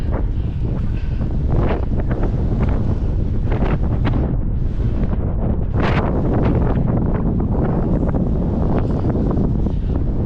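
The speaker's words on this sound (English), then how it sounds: "Windy and wild." Loud, strong wind roars and buffets steadily on a road in Scotland, with heavy rumbling gusts battering close by for the whole stretch.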